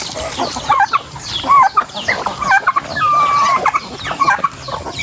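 Free-ranging farm chickens cluck and squawk in repeated short calls, several birds close by and loud, with a soft outdoor background.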